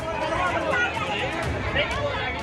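Outdoors by a vaccination centre in Mumbai, a crowd waiting in a long line in the rain fills the air with steady, close chatter and overlapping voices, with no single speaker standing out.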